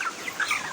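Chickens in a poultry farm housing large and small birds: a dense, steady chorus of clucking and chirping, moderately loud and continuous, with no talk.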